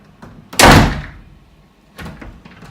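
An Irish apartment door, let go, swings and slams shut with one loud close thud and a decaying rattle, followed a moment later by a softer knock and shuffling.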